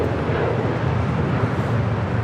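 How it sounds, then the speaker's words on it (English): A Turkish Airlines Boeing 787 Dreamliner jet taxiing for a south side departure at Los Angeles International Airport, a dense continuous low engine roar and rumble holding steady throughout, no voices. "Looks like Turkish, the Dreamliner, heading here for a south side departure as well."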